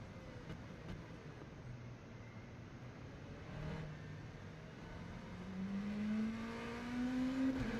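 Oreca LMP prototype race car engine in rFactor 2 at Circuit de la Sarthe, a steady droning hum with a rising whine toward the end as the engine revs up, moderately loud with no talk.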